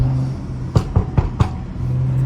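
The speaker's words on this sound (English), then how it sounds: "Tiny little pops there in the downshifts." BMW F30 exhaust popping on downshifts: four quick, sharp crackles in a close cluster break up the steady drone of the engine.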